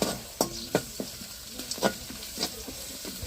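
Onions and ginger paste fry in a pan over a wood fire, a soft sizzling bed punctuated by repeated sharp scrapes and clinks of a spoon stirring, close and irregular, with no voices.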